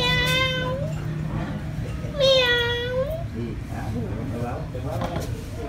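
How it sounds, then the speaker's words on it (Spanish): A cat meows loudly for food several times in rising, drawn-out cries, with people talking quietly in the background. "Y el gato buscando comida temprano."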